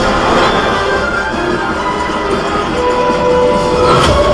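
A train rumbles steadily with a loud, continuous mechanical roar and faint metallic rattling in the Millennium Falcon: Smugglers Run ride at Disneyland, no voices present.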